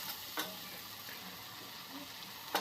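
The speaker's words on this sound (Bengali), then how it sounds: "এই মশলাটা কষানোতে বেশি সময় লাগে না তাই আর কি একটু জল দিয়ে দিলাম তারপরে একটু নেড়ে নেব মশলাটাকে" Spice paste frying in a pan with a splash of water, stirred now and then; a soft, low sizzle runs throughout, with two sharper scrapes of the spoon near the start and the end.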